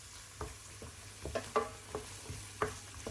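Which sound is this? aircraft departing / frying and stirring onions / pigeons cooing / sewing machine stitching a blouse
frying and stirring onions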